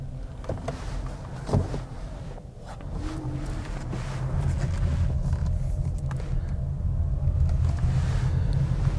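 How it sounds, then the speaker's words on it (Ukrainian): A Honda Clarity pulls away from a standstill on its electric motor, a low steady rumble with road and wind noise that swells gradually and holds, with no voices over it. "Притискаєш, електромоторчик пішов з нуля обертів."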